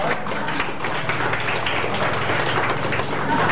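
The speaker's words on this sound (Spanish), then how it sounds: "A ver, un aplauso para ustedes" Dense, steady clapping from a gathering honoring elderly residents at a food-basket handout in the low-lying district of Belén, continuous and fairly loud throughout with no voices standing out.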